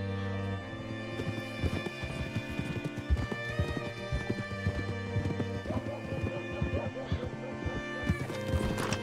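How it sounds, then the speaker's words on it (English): Horse hooves clip-clopping in the video game Red Dead Redemption 2, a steady walking rhythm of hoof strikes continuing throughout under game music and occasional voices. "Hitch your horse up here."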